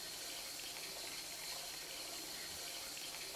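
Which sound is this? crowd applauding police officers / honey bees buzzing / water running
water running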